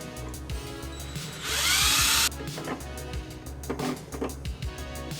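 A power drill whines loudly in one short burst of about a second as it bores a hole for a roof rack mount on an RC4WD 1985 Toyota 4Runner scale model, surrounded by small clicks and handling noises.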